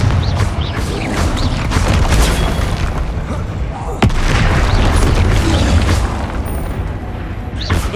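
Confringo fire-spell blasts in the video game Hogwarts Legacy, heavy booming bursts over loud continuous combat noise, with one sharp impact standing out midway, all dense and close.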